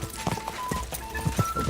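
Horse hooves clip-clop quickly in a video game race, a light rapid galloping rhythm heard faintly under background game sound.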